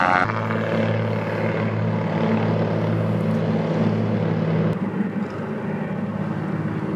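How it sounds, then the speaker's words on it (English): A propeller plane engine drones loudly and steadily during takeoff, a constant harmonic hum with broadband roar, continuous throughout with no talking. "Plane's taking off."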